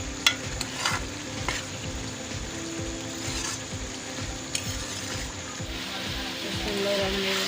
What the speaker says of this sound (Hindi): ये टिंडे की बुनाई अच्छी तरह हो गई है।